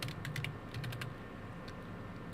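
Quiet clicks of fingers tapping a computer keyboard come in a quick cluster at the start, then a few scattered keystrokes, close and soft over a faint room hum.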